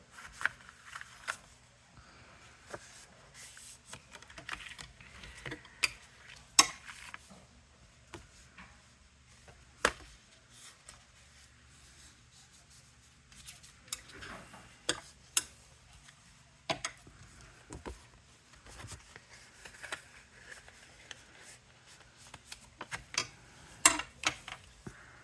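Scored paper card is creased along its score lines, giving faint, scattered soft ticks and light crinkling taps with quiet pauses between them.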